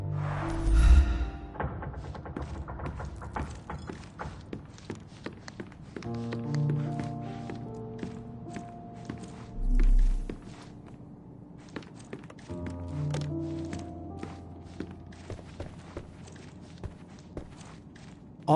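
Footsteps thud overhead on an upper floor in a Sherlock Holmes video game, a long run of uneven taps and heavier thumps that wanders along, with a few louder knocks, over a quiet background.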